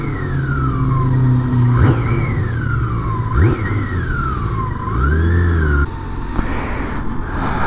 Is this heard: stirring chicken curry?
no